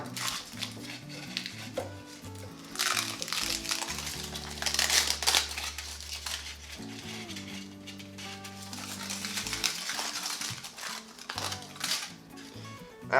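A keto brick wrapped in aluminum foil is being opened, with soft, close crinkling and rustling of the foil in irregular bursts against a quiet background.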